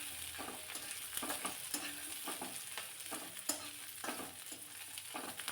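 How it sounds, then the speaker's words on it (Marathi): Fresh green peas are sautéed in a hot pan, frying with a steady close sizzle while a spoon stirs them in regular scraping strokes, with no talk. "ओले वाटाणे थोडेसे घातले आणि पुन्हा हे चांगलं परतून घ्यायचं"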